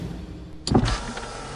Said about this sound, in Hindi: ये कांच कैसे खुलता है? खोल दीजिए ना शीशा।